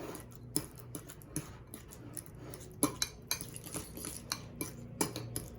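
Spoon mashing and stirring ripe banana in a bowl for waffle batter, giving a run of soft squelches and sharp clinks against the bowl at an irregular rhythm, close and fairly quiet.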